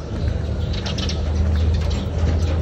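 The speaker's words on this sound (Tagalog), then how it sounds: "dami niya dito mga kalapatids" Breeder pigeons coo steadily in a loft, soft overlapping throaty calls close by over a constant low rumble of background noise.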